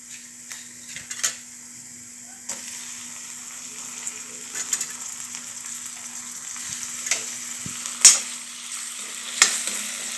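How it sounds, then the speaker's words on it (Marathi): Chopped tomatoes tossed into a pan of softened frying onions for shenga bhaji, with a steady sizzle throughout, broken by several sharp clinks and scrapes of a spoon stirring against the pan. "थोडे मऊ झाल्यानंतर आता टोमॅटो घालू."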